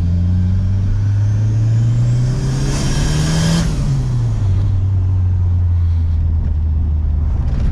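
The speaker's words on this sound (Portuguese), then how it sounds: "O som da turbina é lindo" A Volkswagen Santana GLS turbo engine holds a loud, steady drone that climbs and falls in one rev, with a thin turbo whistle riding on top near the peak.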